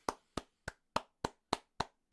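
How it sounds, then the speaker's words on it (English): Seven crisp, evenly spaced hand claps ring out alone at a steady rhythm, close by and fairly soft. "I think that deserves a clap."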